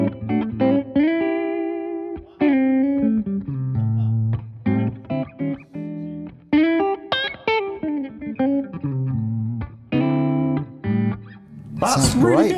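Electric guitar through a Vox MV50 amp on a clean channel with reverb: a played sequence of ringing chords and single notes, loud and close, with pauses between phrases and a brief noisy burst at the end.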